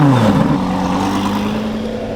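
A Lamborghini Huracan EVO with a dual-clutch gearbox pulls away, its engine droning loud and close in a steady, slightly falling tone as the car drives off.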